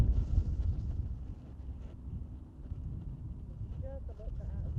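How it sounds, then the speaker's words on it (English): Wind blowing outdoors across a backyard garden plot during sweet potato and cassava planting, a steady low rumble of wind buffeting the microphone throughout, with faint voices in the background. "You see the wind is blowing this direction."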